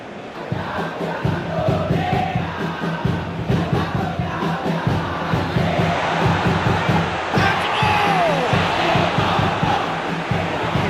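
Stadium crowd in an eFootball PES 2021 match between Indonesia and Vietnam, a loud, sustained roar of cheering and shouting that swells and dips over several seconds, with a dense wash of voices throughout.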